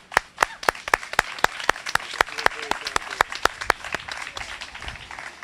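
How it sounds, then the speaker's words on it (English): A small audience claps for young women graduating from a St. Paul Police Department Junior Police Academy. The claps are crisp and distinct, a steady run of sharp beats with a few murmuring voices underneath. "So let's get these ladies a round of applause."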